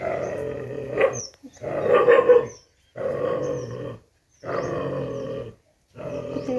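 Dogs gathering outside a house, giving rough barking and growling in five separate bursts with short silent gaps between them, loud and fairly near.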